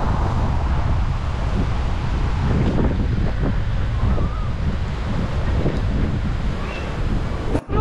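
Strong wind buffets the microphone in a constant roar while waves wash through a Turkish bay where kitesurfers and windsurfers ride, with a sharp knock near the end.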